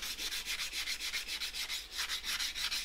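Wet and dry paper sanding UV cured filler paste on a rear guard, a steady rhythmic back-and-forth rasp of quick even strokes, close and fairly quiet with no talk.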